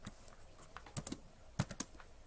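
Quiet computer keyboard typing while entering Python code, with irregular clusters of light key clicks and a few firmer taps, close and faint, with no talking.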